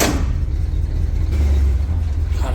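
A 1979 Chevrolet P30 Grumman Kurbmaster van engine with a sticky throttle gives a loud, steady low rumbling idle with deep thrum, close and continuous, no voices.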